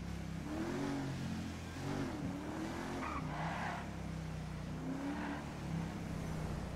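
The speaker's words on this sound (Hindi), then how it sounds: "गाड़ी स्पीड बहुत जल्दी पकड़ती है" Car in GTA 5 accelerating hard with a steadily droning engine, rising revs and repeated squealing tyre skids across several seconds, loud and continuous with no voices.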